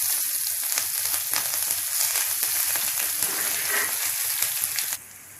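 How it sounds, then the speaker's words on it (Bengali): Onion rings hitting hot oil over charred whole spices for a singi fish curry, a dense, even sizzle crackling close up for several seconds before dropping away abruptly near the end. "এর মধ্যে আমি দেব রিং রিং করে কাটা পেঁয়াজ"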